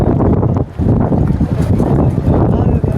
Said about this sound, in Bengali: তো এই ভান্ডারখালি যাওয়ার নৌকাটা চলে এসছে, এই যে ঘাটে ঢুকছে আস্তে আস্তে